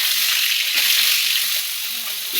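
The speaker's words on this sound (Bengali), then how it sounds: "এখন আমি আলু ভাজা করছি।" Potatoes frying in hot oil in a wok, a steady broad hiss of sizzling with a few soft stirring clatters, close and continuous.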